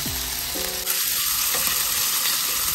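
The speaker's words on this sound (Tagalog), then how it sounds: "ibabrown ko lang siya ng konti. So hinahayaan ko na lumabas yung sarili niyang mantika" Chicken pieces for adobo browning in their own rendered fat, with a loud steady sizzle up close and a few quick stirring scrapes across the pan.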